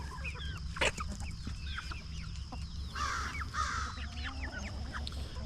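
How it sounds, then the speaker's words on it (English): Chickens clucking in a farmyard, a mix of nearby clucks and squawky calls over a steady low hum, including a louder outburst partway through. "That chicken there's molting, that's why it looks like it does."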